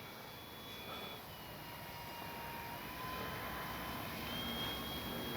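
Dynam F6F Hellcat radio-controlled warbird flying at a distance, its electric motor giving a steady, faint whine that swells slightly as it passes, with no voices present.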